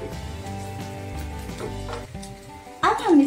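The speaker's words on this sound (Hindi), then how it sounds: "एक बार चला देते हैं।" Sabudana khichdi is stirred in a hot frying pan, with a brief burst of sizzling and spatula scraping close by and a soft voice in the background.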